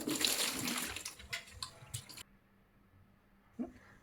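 Salt water poured into a clay water pot, a splashy gurgling pour for about two seconds, then quiet with a single soft drip-like knock, close by.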